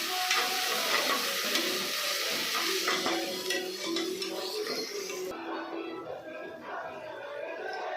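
Masala frying in a pan for chicken biryani gives a steady, close sizzle with occasional stirring scrapes; the crackle stays even and fairly loud and runs without a break.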